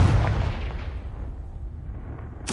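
The Confringo fire spell in Hogwarts Legacy goes off as a heavy booming blast that rolls into a long, dark rumble fading over two seconds, with a sharp new burst hitting right at the end.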